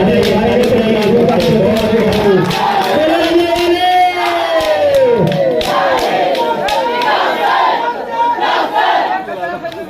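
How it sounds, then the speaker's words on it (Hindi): A large crowd cheers, claps and shouts at a traditional outdoor game competition held by a Husaini committee. The roar is loud and continuous, and excited voices call out over it. "ताली बजाइए भाई आप लोग"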